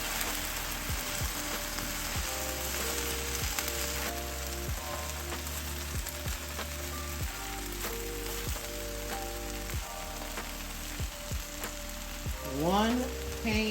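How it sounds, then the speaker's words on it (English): Shrimp, okra and sausage fry together in one pan, a dense continuous sizzle with occasional clinks and a brief stirring scrape near the end; nobody speaks. "we're just going to let these shrimp cook on up"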